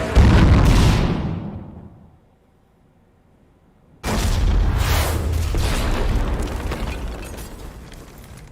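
Two heavy booming cannon explosions in the game Mass Effect Legendary Edition, with a quiet gap between them, each burst rumbling and decaying, loud and close.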